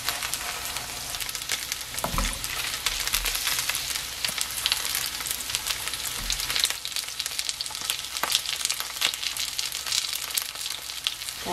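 Steady crackling sizzle of corn fritter batter, made with canned corn, frying in hot oil in a pan, close and continuous, with a few soft clinks of a utensil.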